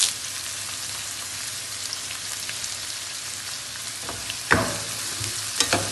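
Chopped onions and curry leaves fry in a pan, giving a constant close sizzle, with spoon scrapes and a couple of sharper clatters of stirring near the end.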